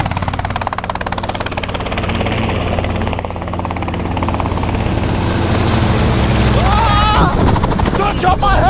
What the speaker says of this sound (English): Alright, so I was just in a chopper.